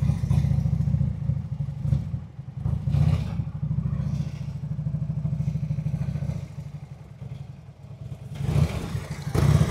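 A motorcycle creeps along at very slow speed during a practice exercise, its engine chugging in a steady low idle-like rumble with light throttle blips and clatter, close and continuous without talk.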